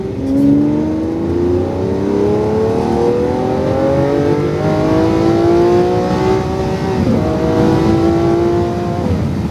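A car on a racetrack during a driving course accelerates out of a left-hand corner, the engine loud and close, its revs climbing smoothly in long sweeps with a brief dip partway through.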